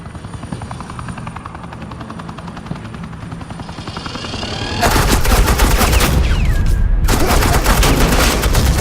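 Suppressing gunfire in Batman: The Enemy Within, sustained automatic bursts that surge in loud and close over the steady thump of a hovering helicopter, briefly cutting out before resuming.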